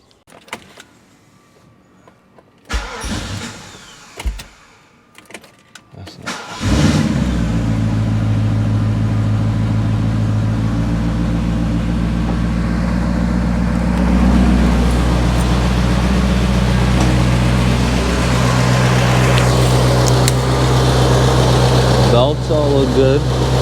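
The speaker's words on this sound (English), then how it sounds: "we'll fire the car up and make sure everything's okay" A 1990 Mercedes 560SEC AMG fires up after a few quiet clicks and a brief crank, then settles into a loud, steady idle that runs on without a break.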